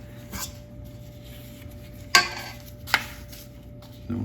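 Scoops of chocolate chip cookie dough, made with instant pudding, plop onto a baking pan in a few soft, short thuds spaced about a second apart, close and quiet against a low room hum.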